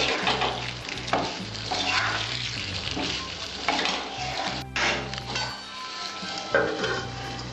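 Bitter gourd and potato sizzle and fry in a pan while a utensil stirs and scrapes them, steady close frying with intermittent clinks against the metal.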